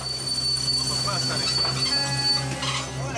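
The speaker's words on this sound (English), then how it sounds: "On the railway tracks, the Hirondelle is halfway to Lebo when Mr. Molongo has to brake suddenly" Train wheels squeal with sustained high-pitched screeching over a low rumbling rail noise, as a heavy train brakes suddenly up close on a railway line in Congo.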